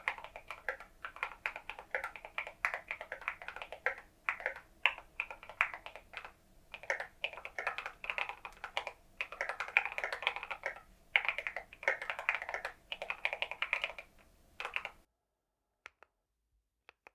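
Steady, rapid clatter of keys typed on a computer keyboard, close and crisp, in bursts with short pauses, then ending in near silence.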